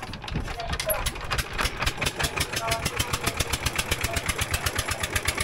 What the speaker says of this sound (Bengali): এই যে ট্রলার স্টার্ট হবে এবার